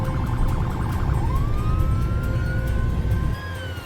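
An ambulance siren wails from a moderate distance, its tone sweeping and then holding steady over a dense rumble of traffic or engine noise, with no talking.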